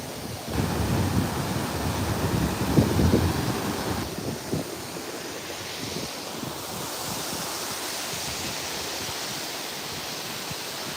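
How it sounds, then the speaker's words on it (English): A waterfall at Disney's Wilderness Lodge resort rushes in a constant broad roar, fairly close, with some wind buffeting the microphone in the first few seconds before the flow settles into an even hiss. "Look at the beautiful waterfall."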